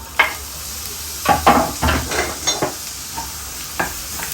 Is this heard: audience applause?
no